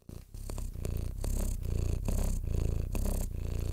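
Twiglet the cat purrs close to the microphone in a steady rumbling rhythm of repeated breaths, loud and continuous with no talking.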